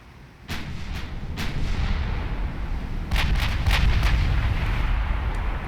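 Warship main guns fire in the naval battle game Ultimate Admiral Dreadnoughts, a series of deep booming salvos over a continuous low rumble, with heavier overlapping blasts in the second half.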